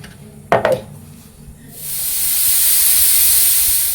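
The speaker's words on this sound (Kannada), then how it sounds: "ವಿಷಲ್ ಕೂಗಿದಾಗಿದೆ." A pressure cooker boiling fresh toor dal lets off steam. A brief knock comes first, then a loud, steady whistling hiss rises and holds to the end.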